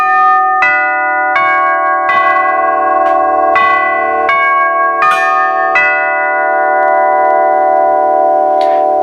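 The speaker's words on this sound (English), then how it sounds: "then we'll ring the front door" A Rittenhouse Model 410 door chime fitted with a NuTone electronic chime plays an eight-note melody, each tone ringing clearly and overlapping as it decays, loud and close with no talking.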